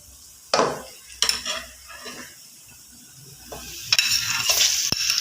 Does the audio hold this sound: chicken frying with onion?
yes